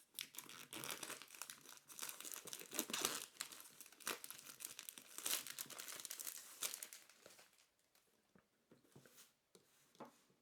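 Clear plastic shrink wrap peeled off a Bose SoundLink Revolve speaker box, heard as close, continuous crinkling and tearing in irregular bursts that thin out near the end.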